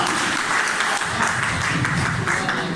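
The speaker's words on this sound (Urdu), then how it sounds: "آپ سب کی بھرپور تالیوں میں" Audience at an Urdu poetry mushaira breaks into full, dense applause welcoming a poet, loud and sustained across the whole moment with no talk over it.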